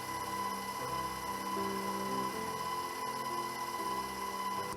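An electric stand mixer beats butter and sugar together, a steady continuous motor whir with a high tonal hum, running alone at constant level throughout.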